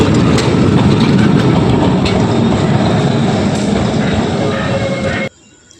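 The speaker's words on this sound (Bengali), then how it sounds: "দেখুন একটি ট্রাম প্রবেশ করছে" A loud, steady rumble of a tram entering a depot close by in Kolkata, broadband and continuous for about five seconds, then cutting off abruptly to near quiet.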